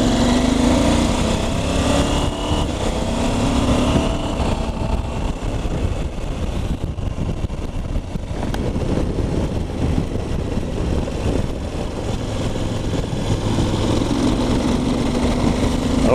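A KTM 790 Adventure motorcycle engine holds steady at 2000 rpm in third gear on a country ride, a continuous loud, low throbbing drone with wind rush that stays even throughout.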